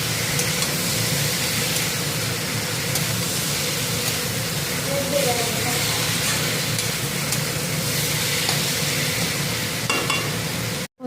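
Fried fish, potato and eggplant with salt, turmeric and cumin powder stirred in a frying pan, a continuous loud sizzle and scraping stir across the whole stretch, ending abruptly.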